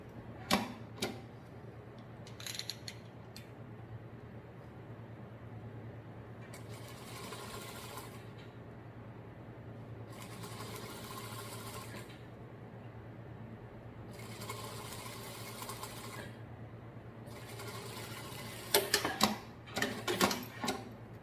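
A domestic sewing machine runs a safety seam along the edge of turned fabric for a baby document holder. Several distinct bursts of fast, whirring stitching are separated by quiet pauses over a low steady hum.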